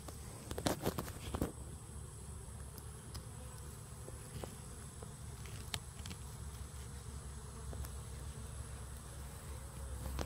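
A steady hum of bees buzzing around a fig tree fills the background outdoors, with occasional faint clicks and rustles.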